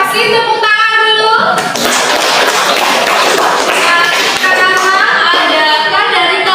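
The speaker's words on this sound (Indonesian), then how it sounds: "Terima kasih, tepuk tangan dulu." A burst of applause from a group of students fills the classroom for a few seconds, with scattered claps and chatter before and after it.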